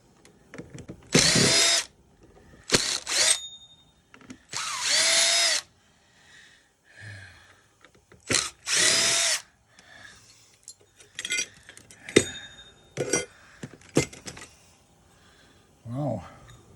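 A power drill spins out screws from a vintage cassette player, several short, loud whirring bursts separated by pauses, with clinks of metal parts and loose screws between them.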